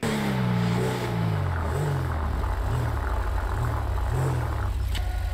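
A car engine in the video game GTA V revs up repeatedly in rising and falling surges, loud and close, without any talk.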